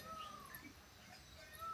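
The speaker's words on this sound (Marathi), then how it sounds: "मोरांचा आवाज." Peacocks call behind a village house in the morning, a faint, distant, drawn-out meow-like wail rising above a quiet background hiss.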